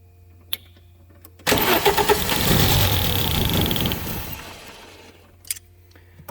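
An Audi coupé quattro engine cranks for about three seconds, a loud close churning whir that fails to catch, preceded and followed by quieter clicks.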